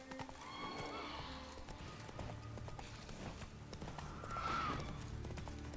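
Horse hooves clip-clop steadily with a couple of neighs from a panicking horse in a Witcher 3 video game ride across Skellige, set under continuous game ambience at low level.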